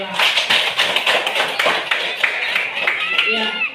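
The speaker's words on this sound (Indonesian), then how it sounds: "Jadi boleh bagi tepuk tangan untuk Ibu Kepala Sekolah." A school audience claps for the principal, a few close, sharp individual claps in an uneven rhythm rather than a full roar, with a voice briefly audible near the end.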